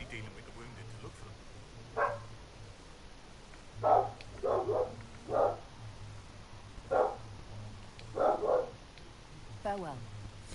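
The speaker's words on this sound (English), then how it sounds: "Excuse the dog in the background" A neighbor's dog barks in the background, about eight short sharp barks in irregular clusters over steady game sound, some in quick pairs, moderately distant and fairly faint.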